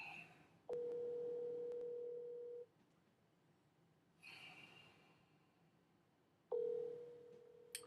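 A telephone call rings out as steady electronic tones over a handset line, two long rings separated by a quiet pause, faint and thin as if heard through the earpiece.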